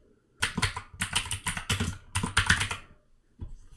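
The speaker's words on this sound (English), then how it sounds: "I'll type in the name at the bottom" Rapid typing on a computer keyboard, bursts of close, crisp key clicks for about two and a half seconds, then a pause and one last tap, with no voices.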